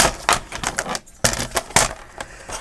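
Scissors or a blade cutting through paper from a paper pad, a series of close, crisp snipping and tapping sounds in an uneven rhythm with a short pause midway.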